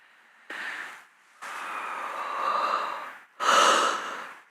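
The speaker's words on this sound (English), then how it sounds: "Big yawn." A person doing gentle yoga stretches lets out a big, breathy yawn in several drawn-out phases, close to the listener, with short silent pauses between the airy inhalation and the long sighing exhale.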